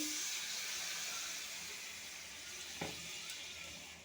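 Water splashes into a pan of stinging catfish and taro stolon curry, setting off a steady broad hiss of steam and sizzle that fades slightly, with a brief clatter near the end.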